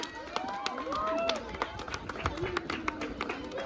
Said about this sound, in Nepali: सबैजनाले तालीले स्वागत गरिदिनु होला।